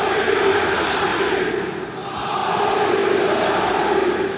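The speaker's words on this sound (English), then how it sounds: "you'll hear the passion from the stands with over 900 new crowd chants" A loud stadium crowd in the football video game FIFA 16 chants in unison, the massed voices swelling, dipping briefly, then rising again.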